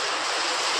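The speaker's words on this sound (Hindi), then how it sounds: "वर्षा हो रही है यहाँ पे, तो देखो पानी बरस रहा है," Rain falls steadily on a wet day at home, a continuous broadband hiss of drops that stays even and moderately loud, with no voices.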